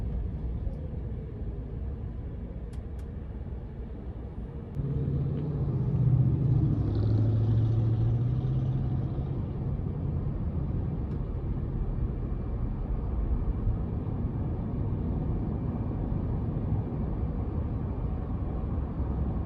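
Cabin of a 2022 Ford F-150 Lightning Pro electric pickup on the move, a low, steady road rumble that thickens slightly after a few seconds, with no engine note and no talking.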